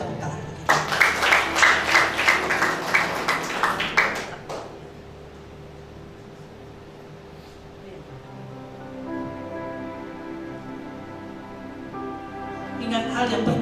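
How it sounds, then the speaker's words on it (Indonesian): A church congregation applauds during a Sunday worship service, a loud dense burst of clapping for about four seconds that then fades to a low hum of sustained tones and room noise. "Berikan tepuk tangan."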